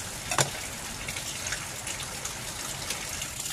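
Heavy rain hisses steadily, with occasional louder drips and splashes near the start.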